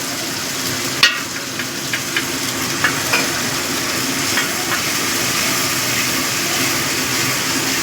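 Ginger and green chili paste sizzles and fries steadily in hot oil in a partly covered pan, a continuous crackling hiss with a few sharper pops and spatters near the start.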